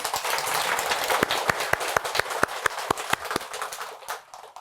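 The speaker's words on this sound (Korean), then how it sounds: "박수 한번 쳐줄까요?" An audience claps at a Buddhist dharma talk, starting as a dense burst of applause that thins into a handful of distinct, spaced claps before fading out.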